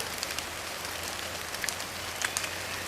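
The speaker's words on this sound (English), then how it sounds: "It's been kind of cool, rainy and drizzly all day." Light rain and drizzle fall steadily outdoors on a cool day, making a soft, even patter with scattered droplet ticks and no voices.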